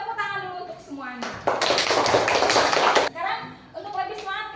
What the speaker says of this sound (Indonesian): Jadi tepuk tangan dulu untuk semuanya.